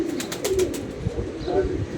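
A pigeon coos softly in short, low notes nearby, with faint chirps and light background noise, among kept pigeons.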